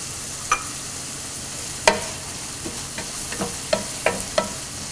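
Onion and curry leaves sautéing in a pan for a jackfruit seed stir fry, a soft steady sizzle broken by several sharp scraping stirs of a spoon against the pan.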